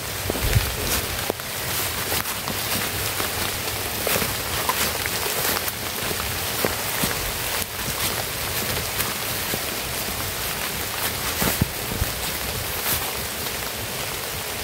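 Heavy rain pours down steadily and loudly in an outdoor setting near a camp, a dense unbroken hiss with scattered sharper drop hits and no voices.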